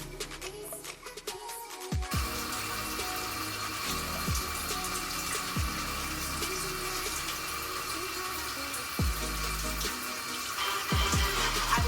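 Shower water running in a steady, continuous hiss that starts after a short quieter lead-in, with occasional low thumps and clunks under the spray.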